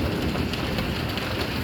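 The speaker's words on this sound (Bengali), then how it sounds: "প্রচুর বৃষ্টি হইতেছে আজকে জিদ্দা শহরে।" Heavy rain pours down in Jeddah, a dense, steady hiss of drops hitting surfaces close by, unbroken and loud throughout.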